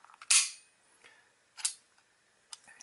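Dry-fire trigger pulls on an EIG E-16 four-shot derringer, two sharp metallic firing-pin clicks about a second apart, close and crisp, followed by a fainter small click, with no talk.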